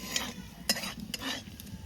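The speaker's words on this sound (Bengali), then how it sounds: "ফোড়ন নেবো গোটা গরম মশলা" Whole garam masala drops into hot oil as a tempering, making a faint, crackly sizzle broken by a few sharp pops and light utensil clicks.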